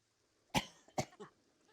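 Two sharp coughs close together, followed by a softer, shorter cough, with quiet moments before and after.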